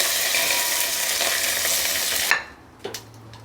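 Stirring duck roast with curry leaves in a pan, Kerala style: a steady, loud sizzling scrape for about two seconds, then it cuts off, leaving a quiet kitchen with a faint click or two.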